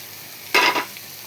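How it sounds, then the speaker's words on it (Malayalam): Onions in a pan as spice powders are added while making egg puffs, a single brief burst of stirring and sizzling scrape lasting about a quarter second against a quiet background. "ഉള്ളി നല്ലോണം വഴന്ന് വന്നിട്ട് ഇനി ഈ പൊടികളെല്ലാം ഇതിലേക്ക് ചേർക്കാം"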